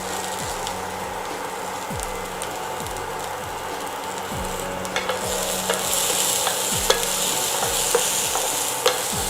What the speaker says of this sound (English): Keep sauteing it for around 10 minutes till the sprouts and the corn are well cooked